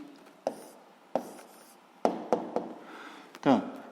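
Pen writing an answer on paper during a physics lesson, with short scratching strokes and several sharp taps of the pen, fairly close, among quiet background noise.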